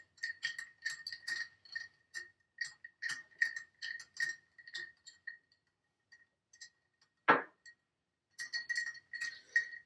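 A large ice ball is stirred in an old fashioned cocktail made with Penelope Havana bourbon. Quiet, close clinks and ticks of ice and spoon against glass come in a loose rhythm, then pause, then resume.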